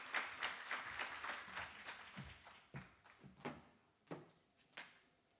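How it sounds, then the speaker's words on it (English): Conference audience applause in a large hall, a fairly faint round of clapping that starts dense, then thins into a handful of separate, echoing claps as it dies away. "Could we give him a round of applause,"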